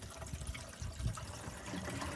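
Water runs steadily into the black holding tank of a bus conversion, a faint, continuous wash and trickle with no voices.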